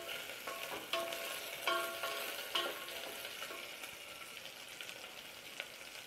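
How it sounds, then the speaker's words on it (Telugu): Carrot, drumstick and bottle gourd pieces are stirred as they fry in a pan, with a faint steady sizzle broken by several sharp spatula scrapes and clinks, quiet and close, with no talking. "ఇప్పుడు క్యారెట్ ముక్కలు, మునక్కాడ ముక్కలు, సొరకాయ ముక్కలు వేసుకొని"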